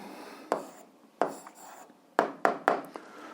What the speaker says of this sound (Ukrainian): ми подали вигляді раціональну дробу, записуємо відповідь.